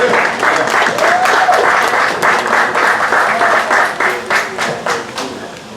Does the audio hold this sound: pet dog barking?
no